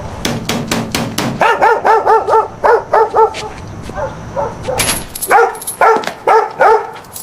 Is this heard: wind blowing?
no